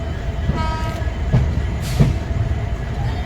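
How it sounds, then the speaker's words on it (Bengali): A diesel train pulls into New Bongaigaon station at night, its engine rumbling steadily with a few sharp rail clanks and a brief high whistle-like tone under the continuous drone. "এই রাত্রেবেলা স্টেশনে ধকধক ডিজেল ইঞ্জিনের আওয়াজটা একটা অসাধারণ অনুভূতি জাগায়।"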